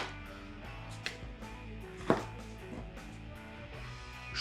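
A few sharp knife strikes against a cutting board cutting hot peppers in half, one louder chop standing out, over a steady low background hum.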